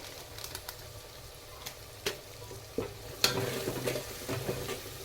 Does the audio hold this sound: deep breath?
no